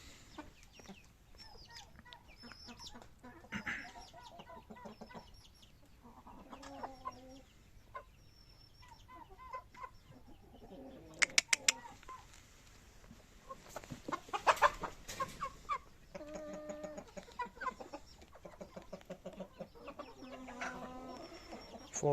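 Chickens clucking and a rooster calling in a farmyard, a steady mix of overlapping clucks and squawks at moderate distance.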